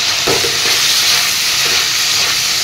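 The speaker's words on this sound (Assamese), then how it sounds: "পিঁয়াজখিনিৰে সৈতেও 2 মিনিট 3 মিনিটমান সময় এনেদৰে ভাজি দিম মই" Onions frying in a pan for a chicken curry with jackfruit seeds give off a steady close sizzle and hiss, with a few soft stirring scrapes over the continuous frying noise.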